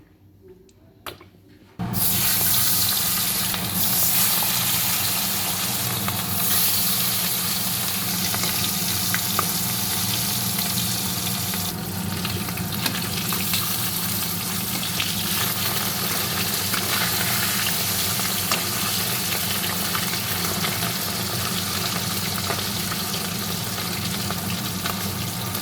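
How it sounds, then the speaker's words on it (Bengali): Fish frying in hot oil in a wok, a loud, steady broadband sizzle that bursts in suddenly after a quiet start and then holds nearly unchanged, close by with no voices. "কড়াইতে তেল দিয়ে মাছগুলো ভেজে নেব ভালো করে।"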